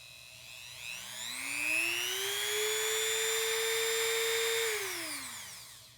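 Rotary tool spinning up to 30,000 RPM, a high whining motor tone that rises in pitch, holds steady for several seconds, then winds down, close and loud with no talking.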